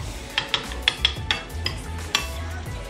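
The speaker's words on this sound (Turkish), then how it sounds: "Şimdi bunu baharatlarla beraber sıcak suyun içerisinde çözdürüyorum." A spoon stirs spices and pepper paste into hot water in a pot for spicy Korean ramyeon, giving a series of sharp metallic clinks against the pot over a low bubbling background.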